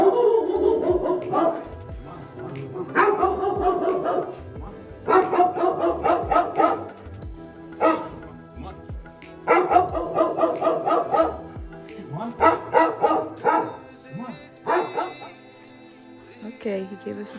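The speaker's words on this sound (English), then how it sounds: "Right about then, we encountered a barking dog who clearly wanted us to know this was his territory." A territorial dog barks in repeated bursts at hikers on a trail in Meskendir Valley, Cappadocia, close and fairly loud, with people talking in between the barks.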